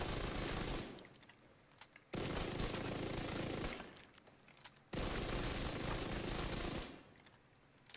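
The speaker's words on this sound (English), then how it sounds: "This thing spits bullets." Sustained bursts of rapid automatic gunfire from a weapon in The Division 2, three long loud volleys separated by short pauses, with no talking.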